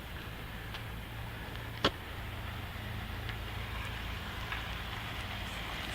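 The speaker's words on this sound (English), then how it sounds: "Just wait for these cars to go by." Traffic passes on a nearby road, a faint, steady rumble of cars going by with one brief click, no voices.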